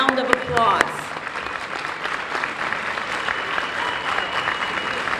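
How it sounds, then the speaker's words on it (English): Steady, dense applause from a crowd at a high school graduation ceremony fills the whole stretch, with a voice briefly speaking over it at the start. "Yes, they do deserve a round of applause."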